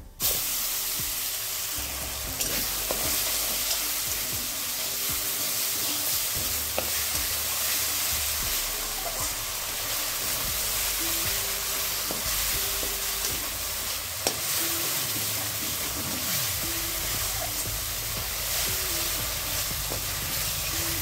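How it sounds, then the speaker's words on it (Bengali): Nigella seeds, garlic and black mustard paste frying in hot oil while being stirred: a steady, dense sizzle and hiss that runs throughout, with occasional scraping and clicks from the utensil and no voices. "এবার ওই তেলে দিয়ে দিচ্ছি 1/2 টিস্পুন কালো জিরে, সঙ্গে দিয়ে দিচ্ছি রসুন আর কালো সর্ষেটা বেটে রেখেছিলাম সেটা"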